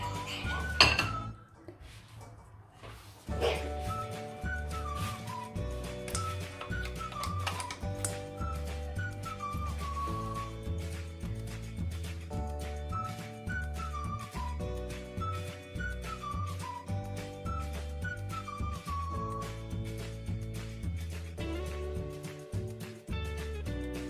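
A whisk beats a tiramisu mixture in a bowl, ticking out fast, steady metallic clinks that keep going without a break while melodic background music plays beneath.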